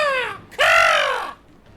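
A raven gives two harsh, drawn-out caws in a poetry-theatre setting, the first short and the second longer and louder, both close and alone with no talking.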